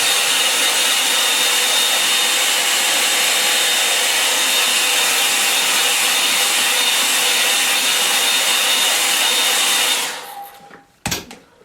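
A hair dryer blows steadily and loudly on a refitted part for about ten seconds, a thin high whine riding on the broad rush of air, then cuts off, leaving a few faint handling knocks.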